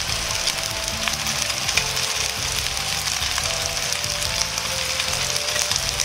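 Frozen peeled shrimp sear in a hot pan for shrimp curry, giving a steady, close sizzle with crackling pops that holds evenly throughout, without talk.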